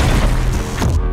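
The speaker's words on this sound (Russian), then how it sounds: "он стрельнул по мне, промазал и сделал дыру в стене прямо передо мной" A tank shell blasts a hole in a wall in the Battlefield 4 video game, a loud, dense crash and boom filling the whole moment, with a second burst of debris near the end before it cuts off.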